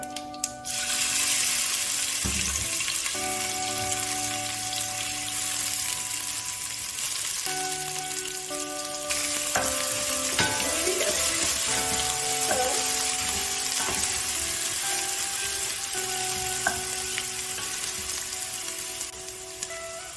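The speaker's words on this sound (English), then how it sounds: "now I'm going to add in the pounded item, the ginger, garlic and the onion." Pounded ginger, garlic and onion fry in oil with curry leaves for chicken rasam, giving a loud, continuous sizzle with steady tonal hum and occasional stirring clatter over twenty seconds, with no talk.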